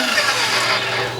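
A kitchen stand mixer hums and whirs steadily while beating pineapple cake batter, a continuous mid-level motor drone with a faint rattle throughout the short stretch.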